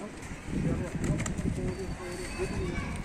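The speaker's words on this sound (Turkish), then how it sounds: "Burası kuş cenneti. Her taraf kuş." Soft, low cooing comes from a flock of domestic flying pigeons outdoors, steady and fairly close, with murmured voices underneath.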